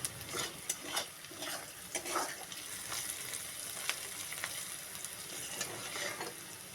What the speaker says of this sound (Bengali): পেঁয়াজটা নেড়ে চেড়ে নেব। এটা একটু সময় ধরে লালচে করে ভেজে নিতে হবে।